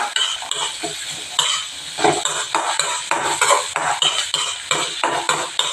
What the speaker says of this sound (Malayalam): ഇതേപോലെ ഇളക്കി കൊടുക്കുക.